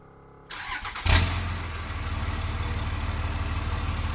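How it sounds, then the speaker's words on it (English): A Toyota IS300 drift car with a 1JZ engine fires up, then settles into a loud, lumpy idle with a steady rough pulse close by. "the fucking idles on these are crazy"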